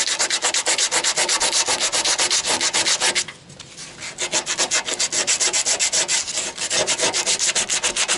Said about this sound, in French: il va falloir que je les ponce à blanc.